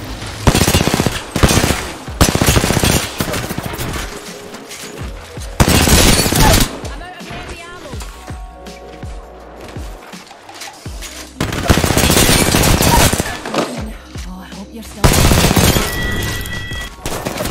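Bursts of rapid automatic gunfire in a video game shootout, loud volleys coming in several separate clusters with quieter gaps of background game sound between them.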